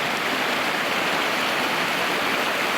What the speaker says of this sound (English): Little pit stop at some little waterfall with a little babbling brook